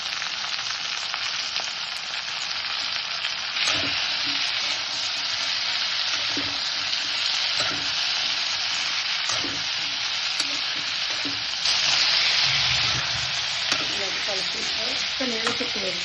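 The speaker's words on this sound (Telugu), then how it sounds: "దొండకాయ ముక్కలు వేస్తున్నాను" Ivy gourd pieces frying in a pan give a steady, even sizzle throughout, with occasional stirring knocks and scrapes, a brief swell of hissing near the end, and no talk.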